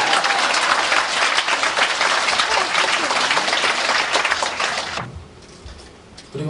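A large concert crowd at a rock band's tenth-anniversary show breaks into loud, dense applause that roars for about five seconds, then falls away to a quiet murmur before rising again at the very end.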